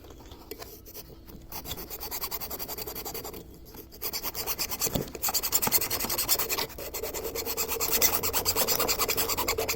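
Surface rust and gunk are scratched off a Land Rover Discovery 3/4 common rail fuel injector, producing repeated close, rasping scrape strokes with short pauses between bursts.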